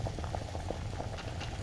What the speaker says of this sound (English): Pour in boiling water at once.